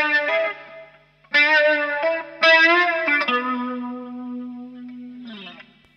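An electric guitar playing a phrase from a guitar solo: a few bent, sustained notes, then a long held tone shaken with vibrato, saturated with effects and ringing out near and loud.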